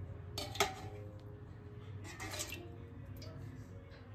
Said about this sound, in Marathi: न घासता काही न करता फक्त असं पाण्यात मी याला फिरवून घेतले